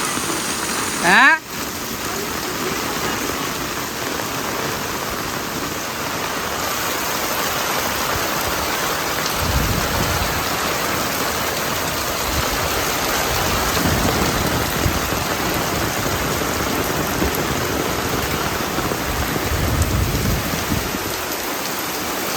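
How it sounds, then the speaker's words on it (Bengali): Heavy rain pours steadily during a Bangladeshi rainy-season storm, a dense continuous hiss on surfaces close by, with a brief louder knock near the start and faint low rumbles later hinting at thunder. "বিকেলবেলা বিশাল বৃষ্টি নেমে গেছে, ঝড় বৃষ্টি মোটামুটি"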